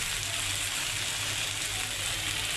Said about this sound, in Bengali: আমি তেলে ভেজে নিচ্ছি।